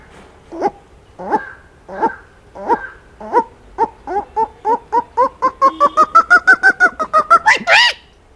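A man imitates an owl's call with a run of about twenty hoots that start spaced apart, then speed up and rise in pitch before ending in a higher final cry. The calls are close and clear.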